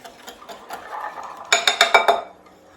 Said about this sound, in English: if you're just whisking it together